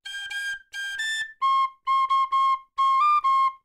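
A whistle plays bar 4 of a famous solo, starting with four breathy, higher-pitched notes in quick pairs and moving to a run of crisp, shorter lower notes with a small upward turn. It plays alone and clearly.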